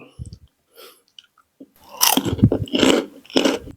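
Crispy fried chicken skin and pork cracklings crunched between the teeth, a burst of loud, close, irregular crunching bites after a few quieter chews, with no talking.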